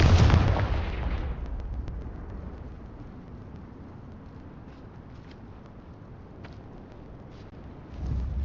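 Confringo blasting spell exploding in Hogwarts Legacy: a loud, close burst at the start that decays into a long rumbling tail and faint crackles, then a second low blast rising near the end.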